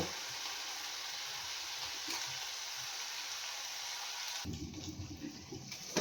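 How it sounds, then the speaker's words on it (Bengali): Water poured into a wok of sizzling fish curry brings a broad, steady hiss that shifts into a rougher, bubbling sizzle near the end, close and moderately loud with no talking. "এবারে আমি এর মধ্যে অল্প একটু জল দিয়ে দেবো"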